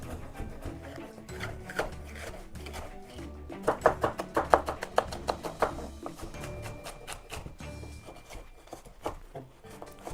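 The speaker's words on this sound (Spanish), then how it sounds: "Pues yo me voy a quedar por aquí terminando de picar todos estos ingredientes." Knife chopping vegetables for a vegetarian meal prep, a fairly quiet, steady run of rapid blade taps on a cutting board with a brief busier flurry in the middle, no voices.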